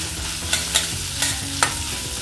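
Sliced onions stir-fry in a pan for a beetroot dosa filling, four distinct spatula scrapes cutting through a dense, close sizzle.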